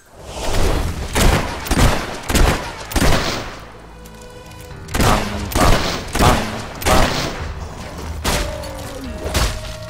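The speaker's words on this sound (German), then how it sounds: "Eine Kanone." Cannon firing repeatedly in the video game Fable 3, a series of loud booming blasts in uneven bursts, each followed by a short decaying rumble, with occasional metallic tones between shots.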